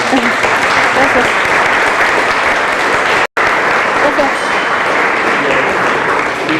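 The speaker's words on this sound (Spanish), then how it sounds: "damos un fuerte aplauso a la doctora" An audience claps loudly after a doctor's conference talk, a dense sustained applause filling the room, with a very brief break midway and voices mixed in.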